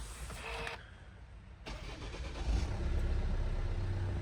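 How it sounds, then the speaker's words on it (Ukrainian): A 2014 Hyundai Santa Fe 2.2 CRDi diesel engine cranks and catches via keyless start, then settles into a steady, low idle rumble, heard close up. "Заводимо наш автомобіль і слухаємо, як заводиться."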